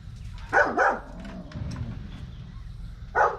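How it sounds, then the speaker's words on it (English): Dogs bark in a few short, sharp pairs early on and once more near the end, with a quieter rumbling background between the outbursts. "The dogs keep barking at something all the time, which is annoying."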